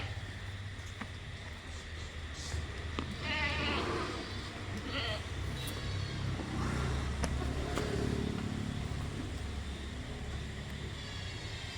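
Goats bleat now and then over a steady low rumble of background noise, with faint voices drifting in the distance.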